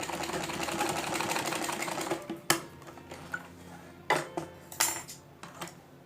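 A sewing machine runs steadily for about two seconds while stitching pleats into a salwar. After that come several sharp clicks and knocks from handling the fabric and machine.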